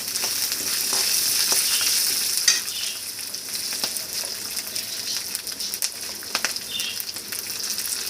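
Urad dal and about ten garlic cloves fry in a pan for a curry leaf thovaiyal, a steady close sizzle and crackle throughout, broken by occasional scraping stirs, with no talk.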